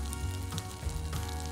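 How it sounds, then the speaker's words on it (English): Unsalted butter sizzles steadily in a small frying pan over medium-high heat, a continuous close crackle and hiss with no voices over it. "heat 1 tablespoon of unsalted butter in a small frying pan over a medium to high"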